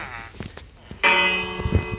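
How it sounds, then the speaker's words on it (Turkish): A bell built in the middle of a video game village rings out, a bright metallic strike with a long, sustained ringing tail following a few softer knocks. "Ben de böyle bir çan yaptım."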